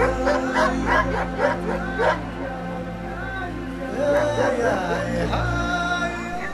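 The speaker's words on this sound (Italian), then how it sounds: "una sedetta trainata dai cani." Sled dogs at a European sled dog championship race camp barking and yipping in a steady, overlapping chorus, fairly close, with some whimpers mixed in throughout.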